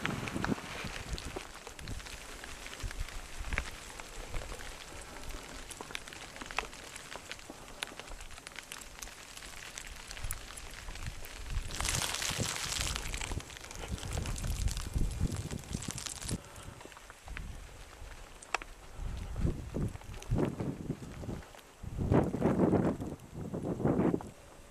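Strong wind gusts in a steep, secured mountain gully on the Mosermandl in the Niedere Tauern, with snow pellets falling: irregular buffeting roar against the microphone that swells and drops, growing harsher toward the end.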